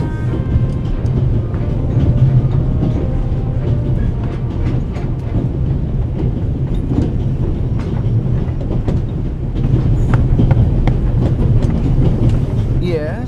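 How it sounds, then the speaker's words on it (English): Inside a moving train in the video game The Raven, a loud continuous low rumble with rhythmic rattling and clacking of the carriage, running under occasional speech. "The noise on this train is driving me crazy."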